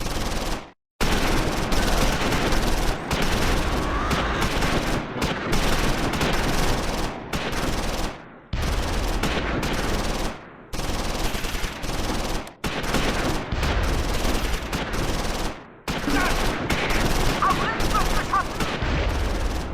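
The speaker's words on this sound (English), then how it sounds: "Second platoon's medium machine gun takes machine gun fire from the Befehlspanzer." Sustained, loud machine gun fire and crackling gunfire battle in the WWII strategy game Close Combat 4, dense continuous bursts broken by brief gaps, with explosions mixed in.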